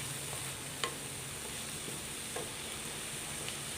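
Banana flower and egg stirred in a pan, a soft low sizzle running steadily with a few faint scrapes and taps of the spoon, quiet and close, with no voices.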